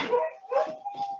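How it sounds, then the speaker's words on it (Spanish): A dog gives three short, yelping barks in quick succession, fairly close and moderately loud, with a faint steady tone running beneath them. "ese es mi perro, sepan disculpar"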